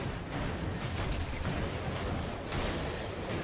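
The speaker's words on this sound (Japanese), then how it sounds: "撃って爆発、撃って爆発" Booming explosions follow gunfire in the Warhammer 40,000 Space Marine third-person shooter, a dense, continuous rumble with a few sharper blasts recurring through the short stretch.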